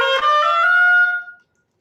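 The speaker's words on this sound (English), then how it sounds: "I'm going to play sharp. I'm going to play bright. I'm going to sound like this." A single short oboe note, played with the reed angled up so the tone comes out sharp and bright, starting with a clear attack and fading out within about a second and a half.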